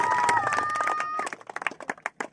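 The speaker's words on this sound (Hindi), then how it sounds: "जोरदार तालियां विकास झोरड़ के लिए होनी चाहिए।" Audience at a cricket tournament prize ceremony applauding, scattered sharp claps that thin into separate irregular bursts, following an announcer's voice with a whistle-like tone at the start.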